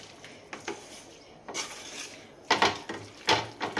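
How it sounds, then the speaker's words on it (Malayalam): Lime pickle being stirred in a pot, giving several separate scraping, clattering strokes of a utensil against the pot, spaced out and fairly close, with no talking. "ഇളക്കി കൊണ്ട് വെക്കാം"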